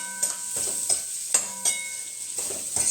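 Onions frying with salt in a pan, a steady close sizzle with a few stirring scrapes of the spoon recurring about every half second.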